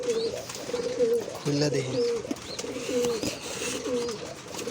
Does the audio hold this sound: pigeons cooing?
yes